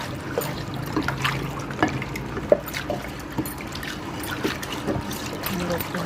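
Water is poured into a container set out for pigeons, a faint, uneven trickle with small splashes and drips, fairly quiet against a soft background.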